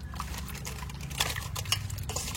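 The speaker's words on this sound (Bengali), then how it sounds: "এবার লবণ দিয়ে ভালো করে মাখিয়ে মাছটা আবার ধুয়ে নেবো দুবার" Salted snakehead fish being rinsed by hand in water, a steady close splashing and pouring with small sloshes and drips, no talk.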